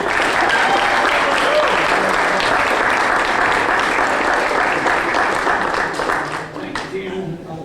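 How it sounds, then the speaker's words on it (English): An audience at a BEI Properties ribbon-cutting ceremony applauds the chairman, a dense, sustained wash of clapping that holds steady for several seconds before thinning out, with voices mixed in. "How about a round of applause for our chairman,"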